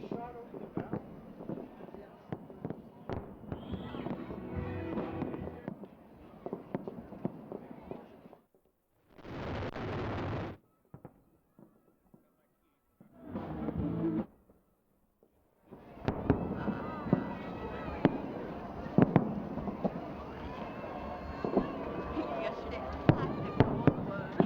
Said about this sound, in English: The fireworks have begun.